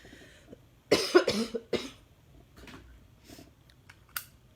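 A few sharp, close coughs in a quick cluster, followed by quieter clicks and faint rustling in an otherwise quiet room.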